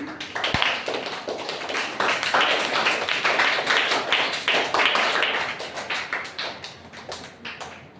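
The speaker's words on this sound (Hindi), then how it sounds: "जोरदार ताली इसके लिए बजाइए" A studio audience on KBC claps loudly for a young girl, with dense, steady applause filling the whole stretch before slowly thinning at the end.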